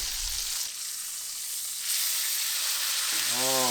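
A butter-basted steak sears in a cast iron pan, a soft steady sizzle and hiss that runs throughout, with a brief low clatter near the start and a short tonal sound at the very end.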